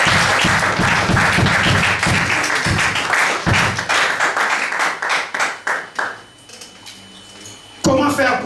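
A church congregation applauding and cheering for the Lord, loud sustained clapping in dense waves with shouts, thinning into scattered claps before a voice resumes over a quieter room.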